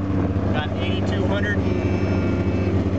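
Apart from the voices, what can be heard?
2000 Polaris XC600 snowmobile engine idling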